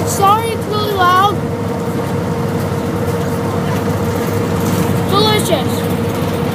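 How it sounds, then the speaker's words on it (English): A steady, loud engine drone and road rumble fill the interior of a moving bus, continuous throughout, with a voice chatting briefly over it at moments. "So I'm on the bus right now."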